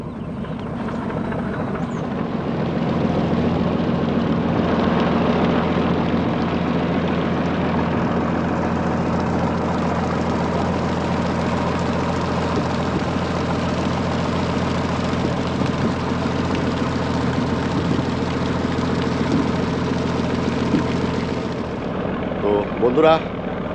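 A boat's engine drones steadily and loudly as the boat pulls away from Indrapur ghat on a river in the Sundarbans. The low, even hum continues throughout without a break, with a brief clatter at the end.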